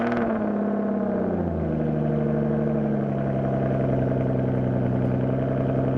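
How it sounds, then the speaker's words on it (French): Sports car engine revving loudly and continuously at close range, its pitch rising and falling with a deep growl and no voices over it. "le moteur s'emballe, et il grogne, mais comme un fauve"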